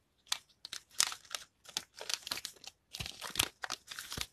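A Pokémon card booster pack from the Sword & Shield Rebel Clash set is torn open, its foil wrapper crinkling and crackling in close bursts of sharp rustles separated by short pauses.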